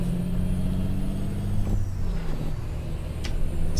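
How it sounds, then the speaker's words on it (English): A semi truck's jake brake in American Truck Simulator drones as a steady low engine rumble with a faint hiss, continuous and fairly loud throughout. "Turn the jake brake off here."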